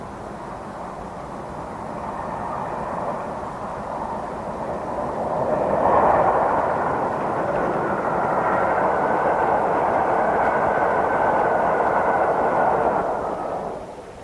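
A broad, steady rumble of a passing Southern-style steam express train builds and swells at a distance, then fades slightly toward the end.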